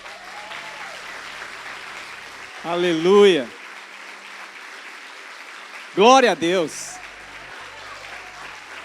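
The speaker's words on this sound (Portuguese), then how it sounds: "dê a Jesus uma salva de palmas" A church congregation claps steadily through a sermon's closing moments while a preacher's voice rings out twice over the applause.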